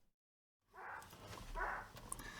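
A dog named Bud barks a couple of times close by, two short muffled bursts after a moment of silence, with light background clatter.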